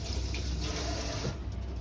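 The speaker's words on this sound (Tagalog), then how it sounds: "We wash this first." Tap water runs steadily over bitter gourd (ampalaya) being rinsed in a sink, a close, even splashing hiss with slight shifts as the vegetable moves under the stream.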